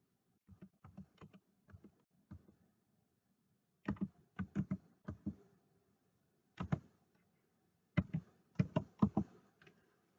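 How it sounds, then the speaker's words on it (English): Someone types a security key on a computer keyboard: several short bursts of crisp key clicks separated by pauses, close and fairly quiet in an otherwise silent room. "It's going to ask for your security key. Type it in."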